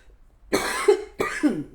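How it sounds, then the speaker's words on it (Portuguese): Two harsh, close coughs in quick succession, each a rough burst followed by a short pause. "Tá difícil essa tosse, irmãos."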